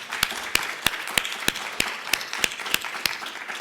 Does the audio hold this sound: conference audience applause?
yes